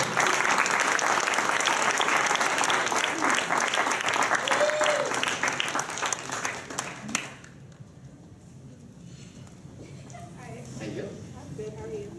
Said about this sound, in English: Give a round of applause to the green team coming in.